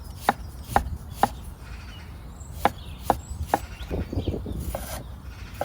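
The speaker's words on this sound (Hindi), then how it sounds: "प्याज को कुछ इस तरह से चॉप कर लेना है।" A knife chops a raw onion on a cutting board in a kitchen, with about eight sharp, separate thuds in an irregular rhythm, close and clear, then softer scraping and slicing toward the end.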